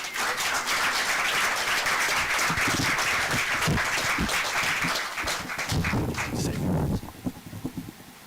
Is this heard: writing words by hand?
no